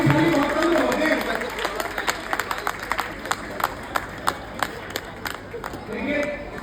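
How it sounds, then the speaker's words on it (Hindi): Loud applause from a large audience at a Hindi-language SYC Star Utsav event: a dense burst of clapping that thins into scattered, distinct claps near the end. "देखिए, जोरदार तालियां भाभी जी के लिए बचनी चाहिए"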